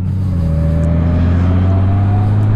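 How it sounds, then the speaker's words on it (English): Steady engine drone from a 2019 Honda Goldwing DCT motorcycle with a flat-six engine while riding, heard close and continuous at an even pitch with wind rumble and no talking. "If I'm not mistaken, it's a straight 6 in this bike."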